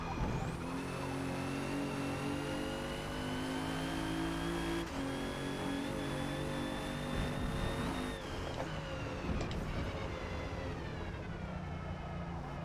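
A 2017 Alfa Romeo Giulia in Forza Motorsport on hard tires at Laguna Seca: a steady engine drone with whining gear tones drops in pitch under braking into a turn, then rises again as throttle comes back, heard alone and close.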